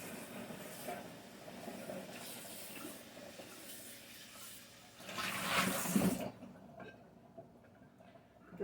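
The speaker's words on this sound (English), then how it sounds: "I'm going to rinse this bowl out." Water runs into a bowl being rinsed at a kitchen sink, a soft steady splashing that swells louder for a second near the end, then cuts off, leaving near silence.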